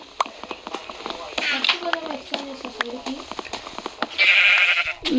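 Short video-game goat bleats come through amid talking voices, with a brighter burst of bleating near the end.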